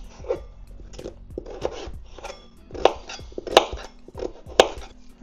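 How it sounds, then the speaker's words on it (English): Small potato being peeled for carrot and coriander soup: repeated scraping strokes with light crunches, a few per second, close and fairly quiet. "Next up, we just peel a small potato."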